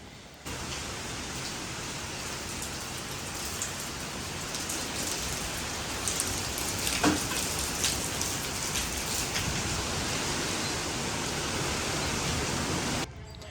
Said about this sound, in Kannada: ಮಳಿ ಜೋರು ಸ್ಟಾರ್ಟ್ ಆತ